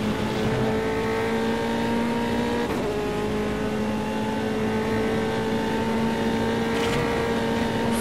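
An F3 race car at Oulton Park International runs on track with a steady, continuous engine drone and strong tonal harmonics. The pitch shifts slightly as it passes, and there is no talk.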